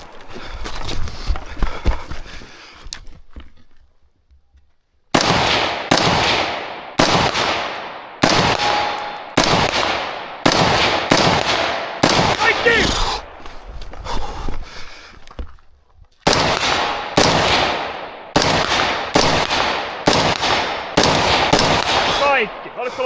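Loud, sharp gunshots at a weekly shooting competition: a few muffled shots first, then after a short silence about a dozen close, evenly paced shots, each cracking and ringing out.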